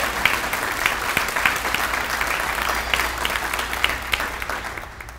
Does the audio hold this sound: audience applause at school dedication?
yes